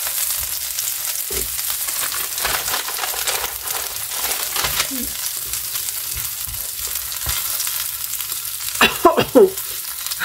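Food sizzling as it cooks during a home dinner, a steady loud frying hiss with crackles and a few sharper spatters and stirring scrapes toward the end, no talking.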